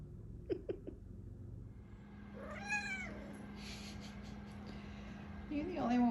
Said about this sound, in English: Bunch of lazy cats.